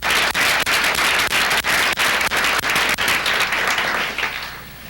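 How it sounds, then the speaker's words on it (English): A room of Salem City Club members claps loudly for the board, with dense, sustained applause that is briefly broken by short gaps and fades out at the end. "I'd like to have everyone give them a round of applause in the center of the room."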